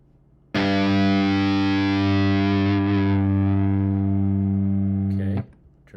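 An electric guitar through the Line 6 Metallurgy Modern distortion plugin rings out as one heavily distorted sustained chord, thick and loud, holding for about five seconds before cutting off sharply.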